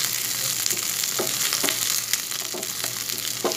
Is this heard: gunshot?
no